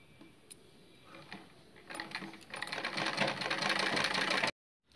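A sewing machine stitches a fold on a designer blouse back neck piece, starting with scattered clicks and rising into a steady, fairly loud mechanical whir before stopping abruptly near the end.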